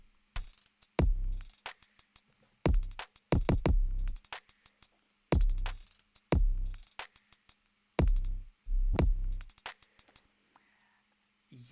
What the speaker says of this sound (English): So these are the kick drums, and with the tops it sounds like this.